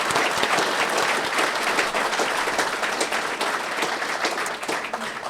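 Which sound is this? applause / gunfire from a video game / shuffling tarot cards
applause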